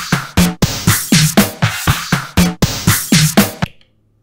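Eight snare drum samples from a sample chain play back one after another on an Elektron Octatrack, evenly spaced, loud and close, each snappy hit with a short decaying tail before silence.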